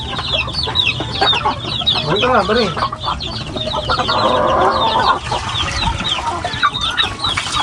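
A flock of chickens clucks busily and close by while being fed, with overlapping calls and a brief crow, as people talk alongside.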